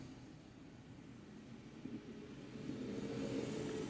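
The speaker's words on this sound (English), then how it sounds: "You guys hear the garbage truck?" Garbage truck passing outside on a Monday, a low muffled engine rumble that swells gradually, heard faintly from indoors with no talking.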